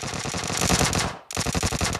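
Rapid automatic gunfire from the mobile battle-royale game PUBG Mobile, loud continuous bursts of shots with a brief pause before firing resumes.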